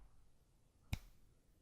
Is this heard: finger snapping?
yes